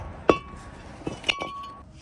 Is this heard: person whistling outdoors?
no